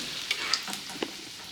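Whole-prawn chops fry in oil as a soft, steady sizzle with a few light crackles, alone and without talk.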